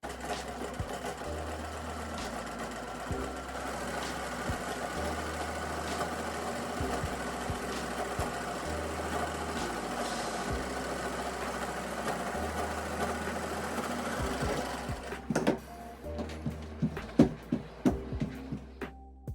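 Sewing machine stitching knit sweater pieces together for a Maison Margiela-style sock sweater, a steady motor whir running in bursts of varying length with brief pauses, then a few sharp handling clicks near the end.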